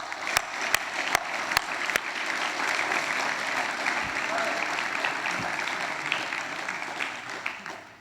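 A graduation audience gives sustained, even applause for student representatives, steady crowded clapping for the whole stretch, with a few sharp near claps or knocks at the very start and a faint voice underneath.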